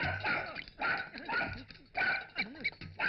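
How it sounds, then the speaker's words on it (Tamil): Dog barking repeatedly in short, loud bursts with yips and whimpering between them, close by and uneven in rhythm, with no talk over it. "இந்த நாய் என்ன இப்படி தொடர்ந்தது"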